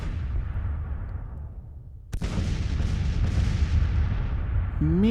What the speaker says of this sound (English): Coming under some artillery fire, but that's to be expected.